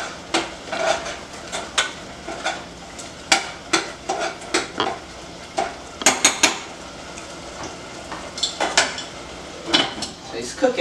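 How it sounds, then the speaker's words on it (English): Dry fish is stirred in a cooking pot for ayamase, with repeated loud scrapes and metallic clanks of a spoon against the pot over a faint sizzle, close and steady with no talking. "Let me just stir it together."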